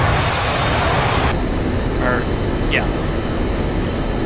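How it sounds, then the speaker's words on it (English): Steady broadband jet roar of a MiG-21 delta-wing fighter in a flight simulator game, loud and continuous throughout, with the tone shifting partway and a couple of brief chirps on top. "This is the Mig21."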